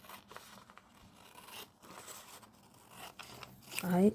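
Paper being snipped with scissors while cutting out a word for a junk journal, a few soft close snips and scrapes under quiet talk, ending with a brief louder voiced sound.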